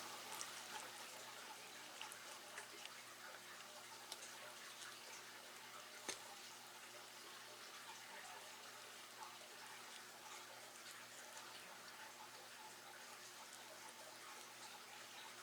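Water trickles and drips faintly from a plant pot in a bathtub, a soft continuous hiss with scattered small ticks and drops, quiet and close.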